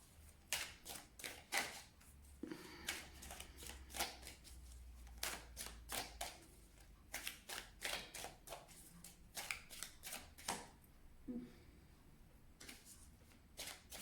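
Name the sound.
shuffling oracle cards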